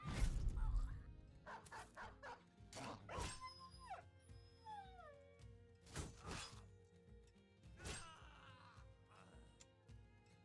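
Dog barks in a video game, several sharp barks and yips spread across the clip among other game sound effects and whistling tones, moderately loud.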